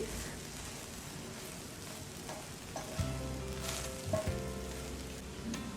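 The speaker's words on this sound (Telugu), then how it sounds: "బాగా కలిపి స్పైసెస్ అంతా పచ్చివాసన పోయే వరకు ఫ్రై చేయాలి" Okra (bhindi) fries with spices in a pan, giving a steady close sizzle with occasional stirring scrapes and clinks.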